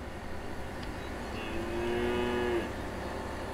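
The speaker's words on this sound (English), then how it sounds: "Mooing cows in the field, that's good, that's a nice touch." Cows mooing in a field in the video game Train Sim World 4, a single long low moo rising over steady diesel train rumble and ambient noise, moderately clear and not too distant.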